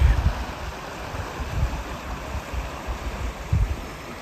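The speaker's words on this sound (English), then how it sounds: "And this is the Salt Creek." Steady broadband rush of creek water flowing close by at Salt Creek, with low gusty rumbles from wind buffeting the microphone.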